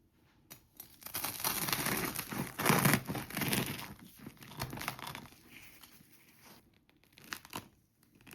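A knife saws through the crisp crust of a freshly baked sourdough loaf, giving close, crackly tearing and crunching bursts that rise and fall over several seconds, then trail off into a few softer crackles.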